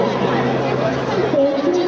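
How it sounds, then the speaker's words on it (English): A crowd waits to pass through an entrance in Kashgar, a steady murmur of many overlapping voices with no single speaker standing out. "Quite a crowd which we're waiting for to go through the entrance"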